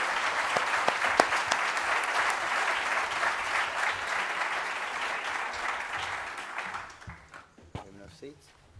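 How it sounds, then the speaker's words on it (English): An audience at an entrepreneurship mentors event breaks into loud, sustained applause from a large crowd, which tapers off near the end into a few scattered claps and murmurs. "Can we give Shelley a round of applause?"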